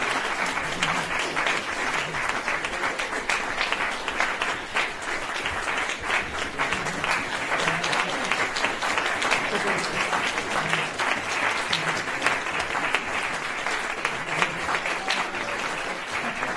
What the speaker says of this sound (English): give you all one really big round of applause